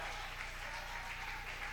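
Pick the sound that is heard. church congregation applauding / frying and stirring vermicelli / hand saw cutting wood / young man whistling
church congregation applauding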